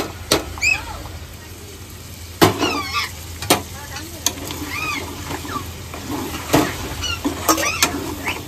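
Ginger garlic paste sizzles loudly in a pan with chicken, a steady crackling fry broken by sharp stirring scrapes and clinks, close up throughout.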